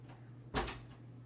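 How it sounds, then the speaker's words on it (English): A door bumps or slides once, a short soft thud in a quiet room, faint against a steady low hum. "Pay no mind to the door sounds."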